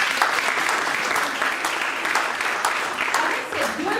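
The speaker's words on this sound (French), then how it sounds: "Applaudissez pour que je vous dise." An audience at a digital business conference in Dschang claps loudly and steadily, with a few sharper claps standing out and a voice speaking briefly over the applause near the end.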